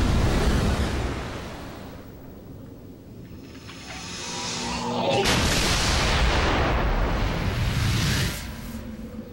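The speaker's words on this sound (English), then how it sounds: "Shooting fireballs." Fireball attacks in the game God Hand burst out as deep rumbling explosions, one heavy roaring blast fading, then a second long booming wave that gradually tails off.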